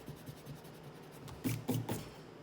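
A pencil eraser rubs across sketchbook paper over a drawing of a Nike shoe box, at first soft scrubbing and then three louder, close, rough strokes near the end, with no talk.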